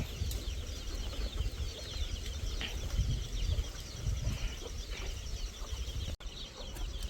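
Native country chickens and a rooster on a poultry farm cluck and call in a steady, moderately faint barnyard chorus, with no talking.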